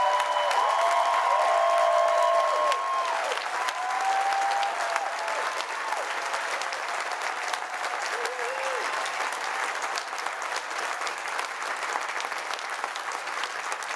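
The Yale class of 2015 stands and applauds at Class Day: a large crowd's loud, sustained clapping that fills the whole stretch, with scattered cheers and voices mixed in.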